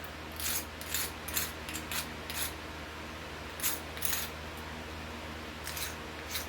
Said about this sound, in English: You can scrape off the outside gook.